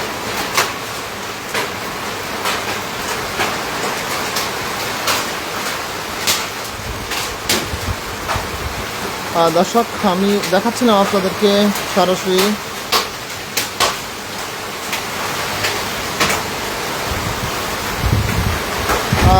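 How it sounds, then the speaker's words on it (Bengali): A heavy hailstorm in Thakurgaon Sadar upazila, Bangladesh, makes a constant broadband roar peppered with sharp ice impacts, while someone talks over it. "ঠাকুরগাঁও সদর উপজেলায় এই শিলাবৃষ্টি হচ্ছে"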